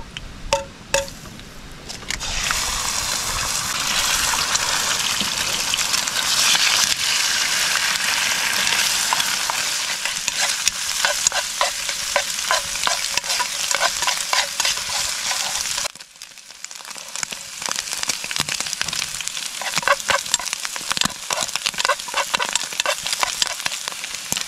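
Egg sizzling and crackling in hot oil in a wok, a steady loud frying hiss with scattered pops and stirring clinks, close and continuous, briefly dropping partway through before resuming.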